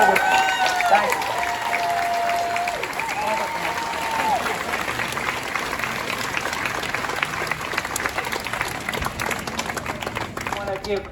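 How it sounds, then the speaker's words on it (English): Crowd applause at a Roe v. Wade emergency action rally, sustained dense clapping with some cheers at the start, continuing loud and even throughout. "Give one more round of applause for all of our elected officials"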